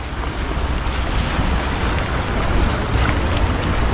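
Sea waves wash continuously onto a village beach during the green algae season, a dense, loud roar of surf with wind buffeting the microphone and no let-up.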